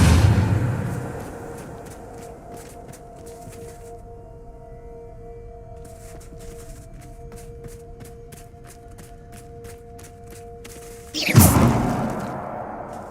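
A Depulso spell cast in Hogwarts Legacy lands as one sudden loud whoosh and thud near the end, after a long stretch of quiet ambient game sound with faint ticking.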